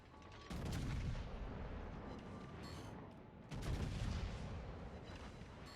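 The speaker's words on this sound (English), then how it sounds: "give me one more salvo before you steal all the damage" Battleship main gun salvos in World of Warships aboard the Nebraska: two heavy booming blasts a few seconds apart, each a loud low rumble that lingers and rolls on, with no talk over them.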